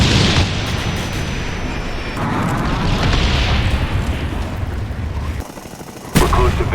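Kill streak explosions and gunfire from the video game Call of Duty: Black Ops rumble loudly and continuously in dense overlapping booms, briefly dropping out before a final sharp burst.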